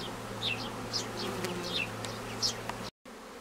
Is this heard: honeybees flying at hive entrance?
yes